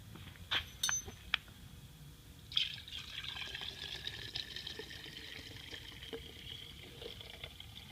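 A glass jar holding Diesel Purge is handled, with a few light clinks and knocks, then a soft pouring trickle of liquid, all faint and close.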